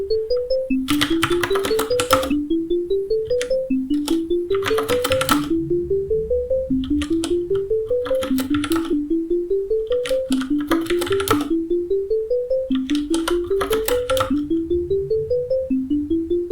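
Sparkly FM-synthesized piano plays a repeating pattern of bright, bell-like notes with rising pitch steps and shimmering high overtones, evenly rhythmic, clear and alone.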